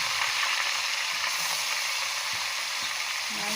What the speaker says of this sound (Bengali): সরিষার তেল গরম হয়ে গেছে, মাছের মাথা দিয়ে দিলাম